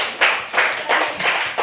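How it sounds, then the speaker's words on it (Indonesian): A classroom of students claps for a classmate in about five distinct rhythmic bursts, close and moderately loud, with no talking. "tepuk tangan untuk Cornel dulu"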